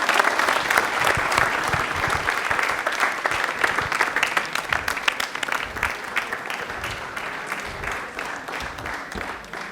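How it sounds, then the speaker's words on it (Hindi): A studio audience at a televised Rajasthani quiz show bursts into loud, sustained applause, dense clapping filling the whole stretch without letting up. "तालियां एक बार प्लीज जोरदार हो जाए इनके लिए"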